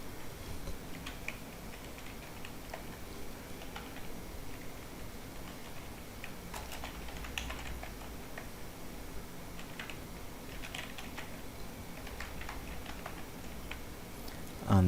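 Keys on a computer keyboard are tapped to enter registration details, with light, irregular clicks running steadily over a low background hum throughout.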